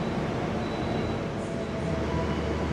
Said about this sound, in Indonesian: Argo Semerunya sudah berangkat lagi.